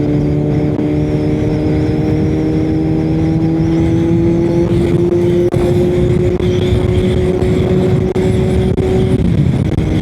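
A Kawasaki Z900 motorcycle engine pulls up through the gears, its whine climbing gradually in pitch with a couple of brief dips at the shifts, loud and close over road and wind noise.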